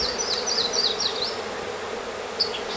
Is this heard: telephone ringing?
no